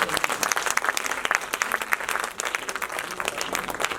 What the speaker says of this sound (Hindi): सबसे पहले एक बार जोरदार तालियां